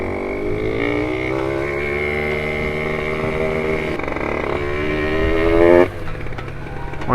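A Derbi DRD Pro motorcycle with a new engine idles while warming up, a loud, close, steady buzzing two-stroke tone that rises slightly before a brief rev near the end.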